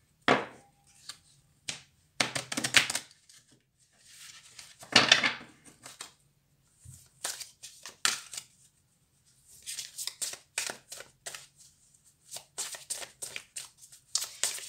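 A deck of playing cards shuffled repeatedly at close range, with crisp riffling bursts coming in irregular clusters separated by short pauses.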